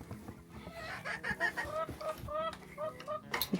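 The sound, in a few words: chickens clucking in coop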